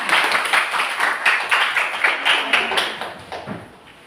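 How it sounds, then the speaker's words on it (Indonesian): A classroom of students clapping together in a teacher-training lesson, a steady patter of many hands that stays loud and even, then thins and fades toward the end. "Itu penegasan kembali, tepuk tangan."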